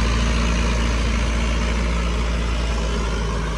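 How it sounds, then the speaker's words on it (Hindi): A tractor runs a heavy Agrigold rotavator set up with double discs in a farm field, giving a loud, steady low engine drone that holds unbroken and close throughout. "एग्रीगोल का रोटावेटर है भाई, रोटावेटर भी देख लो कितना हैवी है, डबल तवे में ले रखा।"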